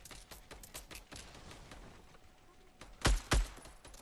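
Sniper gunfire in a video game: two sharp, loud shots fire in quick succession near the end, following a stretch of faint, rapid clicking and background noise.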